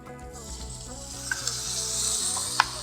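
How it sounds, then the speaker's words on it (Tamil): Amaranth greens and onions fry in a pan under a steady, close sizzle, with a few light stirring clicks and taps near the end and no talking. "இந்த டயத்தில் நம்ம வதக்கி வச்சிருக்கிற கீரை இதோட ஒன்றா சேர்த்தலாம்."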